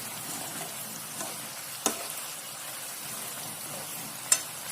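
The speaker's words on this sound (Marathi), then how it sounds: "कालवत राहायचे जोपर्यंत दही आटतं तोपर्यंत" A yogurt and spice mixture cooks in a pan over low heat, giving a soft steady sizzle with a few light clinks from stirring.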